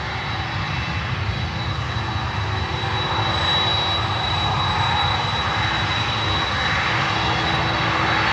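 A DHL Boeing 767 cargo jet departs for Buenos Aires, its engines roaring as a loud, steady broadband rumble that holds constant and close throughout, with no talking over it.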